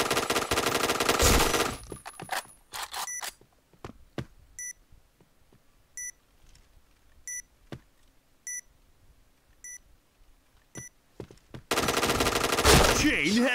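Gunfire in the Point Blank online shooter game during a bomb-defusal round: loud bursts of automatic fire at the start and end, with scattered single shots and short electronic beeps in the quieter middle.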